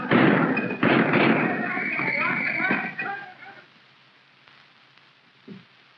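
Heavy thuds and crashes as a locked door is forced in, in a 1929 crime film, with loud banging and shouting voices in the first half, then fading to quiet with one last dull thump near the end.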